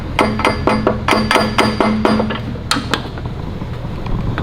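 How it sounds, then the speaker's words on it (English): A hammer strikes a welded engine oil pan during gasket repair work, landing about eight sharp metallic blows in a quick, fairly regular rhythm close by, followed by a couple of scattered taps and lingering shop noise. "let me hammer that in there for you"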